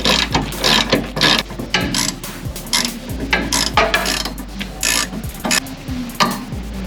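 Ratchet wrench tightening the sway bar bolts on a Ford Focus Mk1, a quick run of sharp clicking pawl strokes repeating in short bursts, close and clear with no talk.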